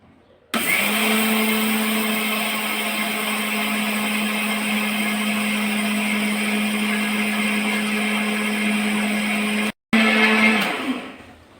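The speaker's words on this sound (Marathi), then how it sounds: "आता याला आपण मिक्सरला बारीक करून घेऊ." A mixer grinder whirs loudly and steadily as it grinds dried ragi into flour, starting abruptly, cutting out briefly near the end, then restarting and spinning down.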